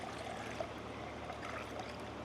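Water pours in a continuous, faint trickle for a garlic fertilization soak, a soft steady stream of liquid splashing into a container with no talk.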